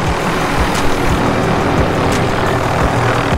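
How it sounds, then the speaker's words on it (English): A helicopter in a first-person shooter game, a loud steady rotor and engine roar that fills the whole clip with no talking over it. "I got a chopper."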